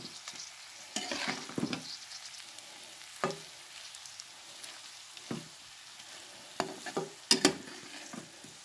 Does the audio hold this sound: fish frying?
yes